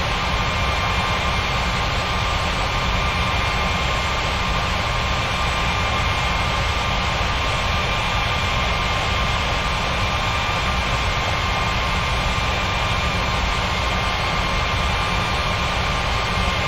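An Air Transat jet airliner lining up on runway 27 before takeoff produces a loud, continuous engine roar with a steady high whine, unbroken throughout.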